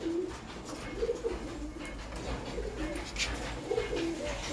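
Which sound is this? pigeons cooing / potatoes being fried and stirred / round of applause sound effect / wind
pigeons cooing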